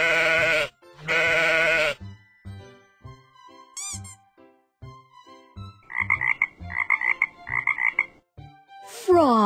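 A frog croaks in short, loud, rhythmic bursts, repeated several times near the end, after an earlier pair of long bleating calls and some scattered clicks.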